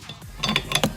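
A 16mm socket wrench on the windshield wiper arm nut of a BMW F10 535i gives a few close metallic clicks and a brief ratcheting rattle within about a second, fairly quiet.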